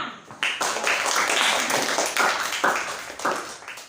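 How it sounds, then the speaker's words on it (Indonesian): A classroom claps for group 6 in a short burst of applause. The clapping is close and uneven, with scattered hand claps rising and falling. "Beri aplaus untuk kelompok 6."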